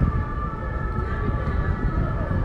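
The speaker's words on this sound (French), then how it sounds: "de la sirène qui n'en finit plus." A siren wails continuously with steady sustained tones over a dense rumbling background, loud and unbroken throughout.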